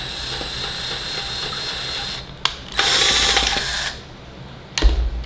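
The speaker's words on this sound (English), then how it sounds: "I'm just gonna drill my hole through the back here." A power drill with a 3/8 bit bores through the back of an Art Deco camera lamp, a steady high whine running for about two seconds, then a brief pause and a second louder, coarser burst, ending with a few clicks.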